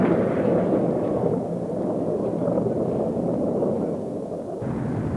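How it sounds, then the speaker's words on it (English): Mount Pinatubo volcanic eruption: a loud, continuous deep roaring rumble that stays sustained and heavy throughout, with no distinct individual blasts. "A big explosion sent a huge, mushroom-shaped cloud that rose to 20 kilometers above the active vent."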